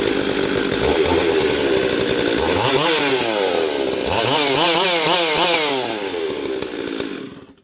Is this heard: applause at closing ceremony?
no